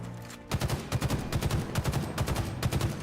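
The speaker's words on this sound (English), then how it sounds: "Weird looping issue with the explosions will never be fixed." Scarab explosions from the Halo video game caught in a glitchy loop, a rapid string of loud, booming bursts repeating in quick irregular succession, dense and close like sustained gunfire.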